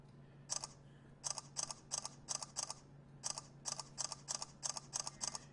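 Galaxy Nexus phone camera shutter firing rapid photos: quick crisp clicks in tight bursts of two or three, repeated about a dozen times over a faint steady hum.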